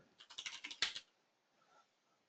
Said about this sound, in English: You can just add stuff by straight up typing it.